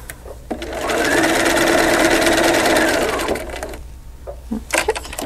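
A sewing machine stitches quilt pieces for a double wedding ring against a slit template in one smooth burst, followed by soft handling clicks and rustles.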